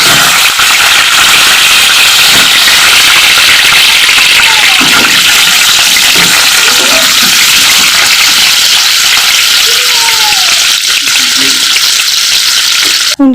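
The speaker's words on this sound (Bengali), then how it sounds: "কড়াইতে তেল দিয়ে অল্প করে হালকা আঁচে আলুগুলোকে একটু ভালো করে ভেজে নেব" Potatoes fry in oil in a kadai over a low flame, a loud, steady sizzle that continues throughout, with occasional stirring and a voice talking over it.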